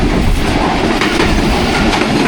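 A Pakistani express passenger train passes on the rails, a loud, close, continuous roar of wheels and carriages with rhythmic clatter.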